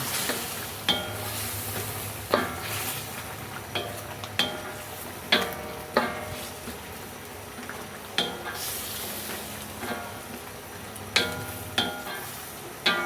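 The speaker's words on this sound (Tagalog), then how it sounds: "Pag kumulo, pwede na rin natin ilagay ang talong at okra. At haluin natin ito ng haluin." Eggplant and okra stirred in a simmering pot of pakbet, steady bubbling under a regular series of sharp spoon scrapes and knocks against the pot, no talk.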